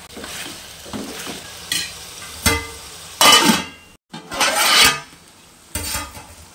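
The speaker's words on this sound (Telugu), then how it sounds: "చిన్న మంట మీద నూనె మొత్తం వాటర్ అంతా ఇంకిపోయి నూనె పైకి తేలే వరకు మగ్గనించుకోవాలి" Mutton sizzling and bubbling in oil over a low flame, steady frying crackle broken by a few louder bursts of stirring and clinks of a utensil against the pan, close and alone with no talk.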